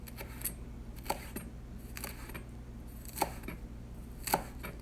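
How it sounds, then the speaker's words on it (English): Fresh mint leaves chopped finely with a knife on a cutting board for a spring herb relish, sparse crisp thuds spaced about a second apart over a low steady background hum. "So we continue chopping fine"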